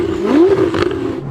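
A Ferrari 488 GTB engine roaring loud and close through a titanium exhaust, a short sharp sweeping tone that rises and falls in pitch as the revs change.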